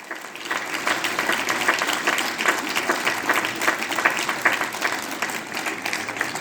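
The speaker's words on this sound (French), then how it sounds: "je voudrais un tonnerre d'applaudissements pour les bénévoles" Sustained applause from a cabaret show audience at an outdoor summer evening event in Montbrison, many hands clapping at once in a dense, even wash, moderately loud and without speech.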